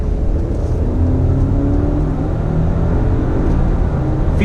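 A 2019 Alfa Romeo Stelvio SUV engine pulls hard under throttle with a loud, steady drone and road rumble that holds throughout, with no voices.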